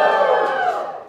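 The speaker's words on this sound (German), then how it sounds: "Der Raum ist voll. Jubelt mal alle." A full room of convention-goers cheers and shouts together at a panel, a loud dense crowd roar that slowly fades over about a second.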